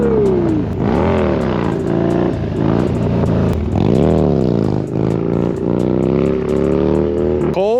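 A stock 96-inch Dyna motorcycle revs repeatedly and close by, the engine swelling up and dropping back in several throttle blips over a rumbling idle, ending with a short mechanical clatter.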